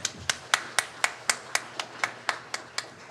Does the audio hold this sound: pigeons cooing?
no